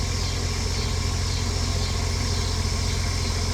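Kubota D722 diesel reefer engine on a Volvo VNL780 truck, running hot, idling with a steady, even low throb and mechanical hum, constant and close with no variation.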